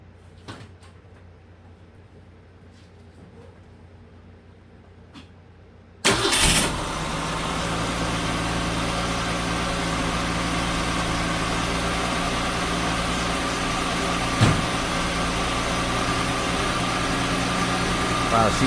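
A 1966 Ford Mustang engine cranks and catches abruptly after a quiet stretch, then settles into a loud, steady, smooth idle rumble close by, with a brief knock partway through.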